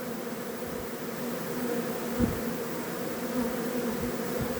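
Honeybees fan their wings at full speed while a swarm moves into a hive outdoors in fine weather, giving a steady, dense, close buzzing drone that holds without pause.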